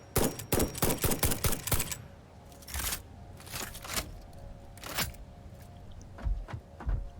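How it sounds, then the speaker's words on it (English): Rifle fired at enemies in the factory-building game Satisfactory: a quick burst of sharp shots in the first two seconds, then scattered single cracks spaced through the rest, fairly close and with no talk. "just a rifle that you can shoot at enemies"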